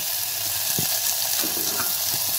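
Onion frying in hot oil inside a pressure cooker gives a steady, dense sizzle with a few faint taps, close and unbroken.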